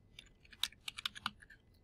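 Quick bursts of typing on a computer keyboard, a handful of sharp, close key clicks in an uneven rhythm with no talking.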